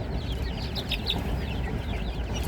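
Young chicks cluck and peep softly in a movable pen set out on grass, a cluster of brief chirps near the start over steady outdoor background noise.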